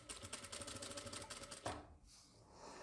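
A domestic sewing machine runs a steady stitching pattern along a salwar hem finished with buckram, fast even needle clatter for about a second and a half, then it stops and only quiet handling remains.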